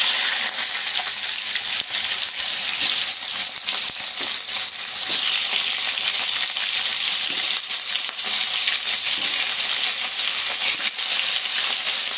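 Potato, papaya, drumstick, radish and carrot fry in hot oil in a pan, a loud, steady, continuous sizzle with faint stirring scrapes throughout.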